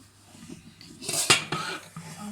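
Metal cookware clatters and clinks close by as pots and pans are picked up and set down, a few sharp knocks over a quiet room.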